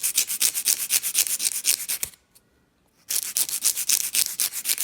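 A nail file rasps against fingernails in quick rhythmic back-and-forth strokes, close and fairly loud, stopping for about a second before the steady scraping resumes.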